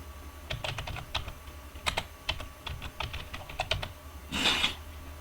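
Clattering keystrokes on a computer keyboard while a YouTube thumbnail is made, quick irregular bursts of clicks with short pauses and a heavier tap near the end, close and clear with no talk.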